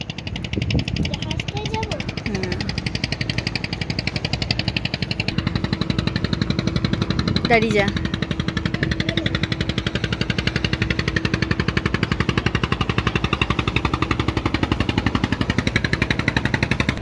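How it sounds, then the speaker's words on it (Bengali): A ship's engine runs in a steady, continuous drone with a rhythmic pulsing throughout, while voices talk faintly over it. "এটা নৌকা নয় জাহাজ"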